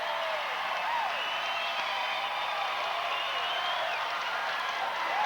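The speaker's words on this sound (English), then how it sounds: "Standing ovation from this crowd." A basketball crowd at a 1987 regional final gives a standing ovation as a player leaves the game, a sustained roar of cheering and clapping that stays steady, with a commentator's voice partly audible over it.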